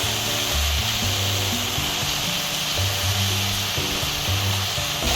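Chopped potatoes tipped into a hot pan make a soft, steady sizzle over a constant background hum, with no voices.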